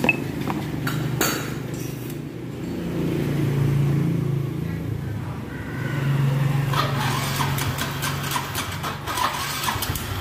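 A Yamaha Soul GT 125 scooter engine idles steadily nearby after a spark plug change, swelling twice in revs, with metallic clinks and taps of workshop handling over it.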